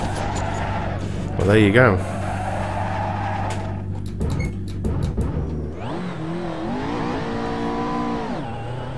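McLaren MP4-12C GT3 race car engine in a racing sim, revving and shifting with a brief tire squeal, under a voice talking over it.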